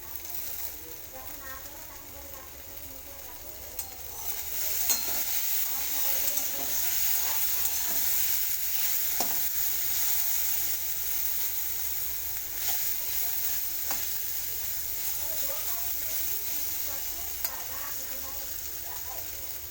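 Steady sizzling of boiled taro frying in a pan, with occasional scraping and knocks of stirring throughout.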